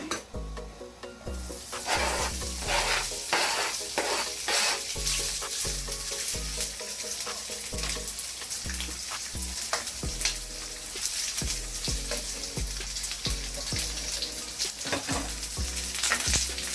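Garlic and onions fry in extra virgin olive oil for vegan Filipino spaghetti, crackling and sizzling steadily up close, with repeated scraping and stirring strokes in the pan and no speech.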